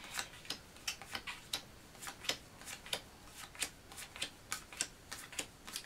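Character cards from the Joan of Arc board game by Mythic Games being handled, giving a steady run of crisp, close ticks and flicks at a quick, fairly even rhythm, with no talking.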